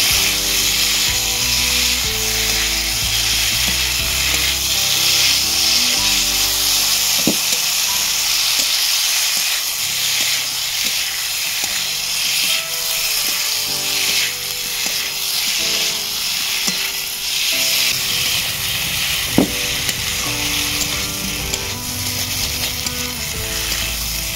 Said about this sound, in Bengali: ভালো করে আলু, ফুলকপি আর শিমের সাথে মশলাটাকে কষিয়ে নেব